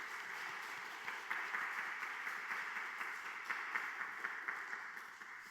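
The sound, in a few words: congregation applause of thanks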